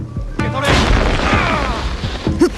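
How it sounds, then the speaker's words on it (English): An explosion set off with the exploding tricks of an ally in the stealth game Assassin's Creed Shadows, a sharp boom with a crashing tail that fades under game ambience, then a second smaller pop near the end. "Perfect opportunity to call upon our ally Genojo and some of his exploding tricks"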